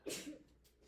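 A single short sneeze bursts out once during a classroom math lesson, fairly close and sharp, followed by quiet room tone.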